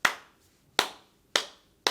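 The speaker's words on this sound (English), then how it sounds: "I'm gonna clap for that one" Four crisp, separate hand claps ring out close by at an even, unhurried pace, each snapping sharply and then fading into quiet.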